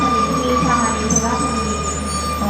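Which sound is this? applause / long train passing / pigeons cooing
long train passing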